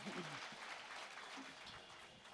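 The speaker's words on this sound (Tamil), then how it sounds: "நல்லாவே கைத்தட்டலாம்" Audience clapping at a live Kamban festival literary debate in Puthukkottai, a steady wash of applause filling the hall with a voice briefly over it.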